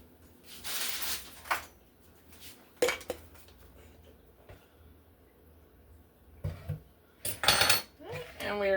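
Rice, pineapple, peas, peppers and teriyaki sauce tossed together in a bowl, with bursts of clinking spoon-on-bowl scrapes and taps between quieter stretches, close and moderately loud.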